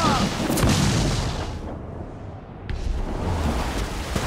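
Ship cannons fire in a naval battle in Assassin's Creed 4 Black Flag, a loud, booming broadside that rolls on as a continuous rumble with a brief lull partway through.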